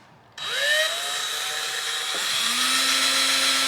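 A power drill whirs into wood, boring a pilot hole in the end of a board: the motor kicks on abruptly, then a steady, fairly close whine shifts pitch partway through as the bit bites, with no talking.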